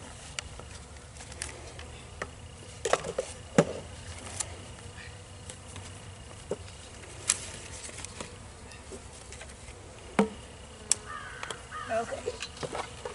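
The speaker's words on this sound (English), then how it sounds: "Bees all over you." Honey bees buzzing around a newly set-up beehive outdoors, a faint, steady insect drone with occasional louder passes close by and small knocks.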